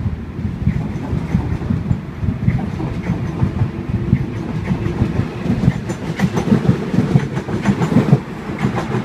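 A Sydney Trains Oscar H28 set arrives into platform 2 at Milsons Point, its wheels rumbling and clattering rhythmically over the rails, fairly close and steady, with no talking.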